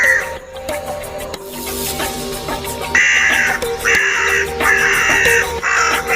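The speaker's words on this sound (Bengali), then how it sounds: "সন্তুষ্ট চার্লি আনন্দমুখ কা কা করে ডাকতে লাগল" Crow caws in a storybook scene, repeated loud harsh calls in bursts over a busy background, clearest in the second half.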